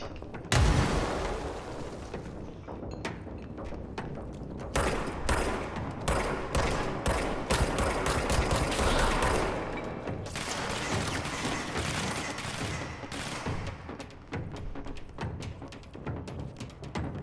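Rapid bursts of gunfire aimed at the player in the video game Control, clusters of sharp loud shots in quick volleys with brief pauses between flurries, a heavier boom at the start.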